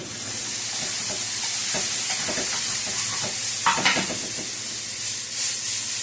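Eggs fry in a hot pan at breakfast, a steady close hiss and sizzle broken by a few soft scrapes of stirring or flipping, with no talking.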